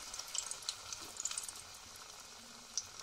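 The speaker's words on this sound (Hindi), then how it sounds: "धीमी आंच पर इसको तलना है।" Small pakoras frying in hot oil over a low flame give off a faint, steady sizzle with a few scattered light pops. No one speaks.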